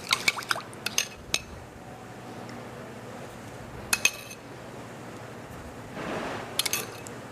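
Sauce drizzled over a cold pork tenderloin salad, a soft liquid pour with scattered light clinks of utensils against a dish, close and quiet with no talking.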